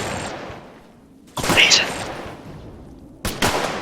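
Gunshots ring out in a military shooter game, with two sharp, loud bursts separated by a quieter stretch, each trailing off with a brief echo.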